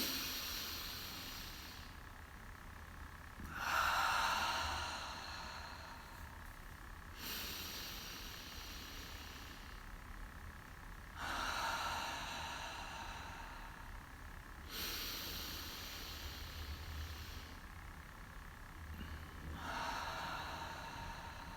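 Slow guided breathing in a quiet meditation session, three rounds of audible inhale, hold and exhale spaced evenly several seconds apart, close and fairly soft with no talking.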